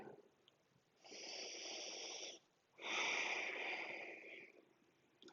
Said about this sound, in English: just taking a few deep breaths here